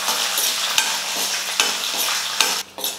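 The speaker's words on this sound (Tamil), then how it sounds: "பாருங்கள், பருப்பு, வரமிளகாய் எல்லாமே நல்லா வறுந்துருச்சு" Chana dal, dried red chillies and green chillies dry-roasting in a pan, a crackling sizzle broken by repeated scrapes of stirring, close and steady with no voices.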